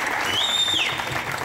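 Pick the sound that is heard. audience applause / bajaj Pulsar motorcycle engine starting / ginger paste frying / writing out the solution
audience applause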